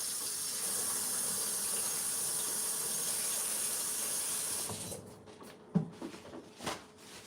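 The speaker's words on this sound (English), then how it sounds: "now I'm just going to wash my hands off because they're hella covered in pineapple juice." Steady rushing hiss of running tap water as hands are washed for several seconds, then the flow cuts off and a few scattered clunks and knocks follow.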